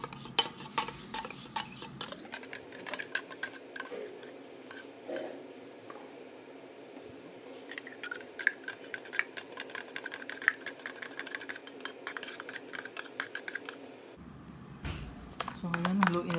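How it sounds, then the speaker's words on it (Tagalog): A spoon scrapes and swirls steadily in a bowl as condensed milk is stirred into a homemade Oreo ice cream mixture, a continuous close stirring sound running for most of the stretch. "So ngayon, haluin na lang natin siya."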